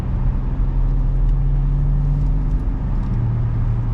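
A car's engine hums loud and steady from inside the cabin while it gathers speed, a low droning tone that rises slightly in pitch toward the end.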